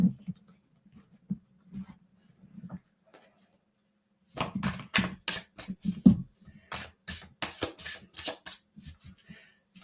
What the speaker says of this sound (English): Now I'm going to put out the cards.